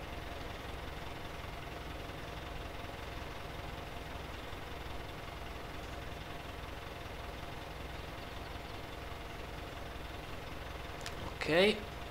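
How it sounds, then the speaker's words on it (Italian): A Claas Scorpion 7055 telehandler engine in Farming Simulator 17 idles with a steady, even low hum and vibration throughout, ending in a brief louder burst. "Qui c'è il motore con tanto di animazione e di vibrazione."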